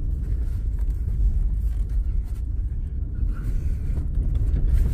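An off-road vehicle grinds up a canyon wash near Moab, Utah, with a steady, loud, low engine rumble and cabin drone lasting throughout, joined by faint creaks and rattles.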